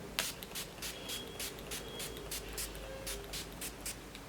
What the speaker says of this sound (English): Just spraying a very little bit on my face.